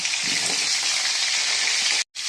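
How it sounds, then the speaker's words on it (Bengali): Potatoes fry in hot oil left from frying chicken, producing a loud, dense, continuous sizzling hiss close up that cuts out briefly right at the end. "এই তেলেই আমি আলুটা ভেজে নেব"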